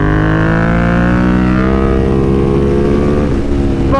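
A BMW F 900 R Cup Racer motorcycle engine at loud, sustained race pace, a continuous droning roar with rising and falling pitch as it accelerates, heard close with no voices.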